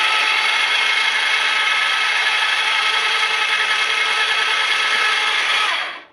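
A homemade bandsaw mill cuts steadily with a loud, even, high-pitched whine and blade hiss. The sound holds constant and then stops abruptly at the end.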